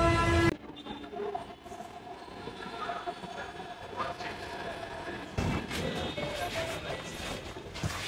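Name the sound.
metro train arriving at station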